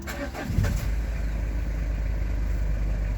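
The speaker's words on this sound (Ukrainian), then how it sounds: "Давайте глянемо, як наше авто заводиться" A 2005 Citroen Jumpy with a simple non-turbo engine cranks briefly and fires almost at once, then settles into a steady, even idle rumble close by, with no talking.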